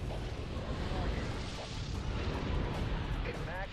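A MAC cannon fires in the Halo Wars video game as dense, continuous rumbling booms and battle noise in a loud wash, with voices calling out over the din.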